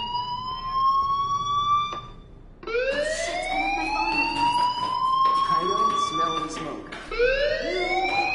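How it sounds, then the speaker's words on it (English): A fire alarm wails in the video game Life Is Strange, repeated rising siren sweeps that climb and hold, loud and close, restarting several times, with a voice talking over it. "do you hear that fire alarm?"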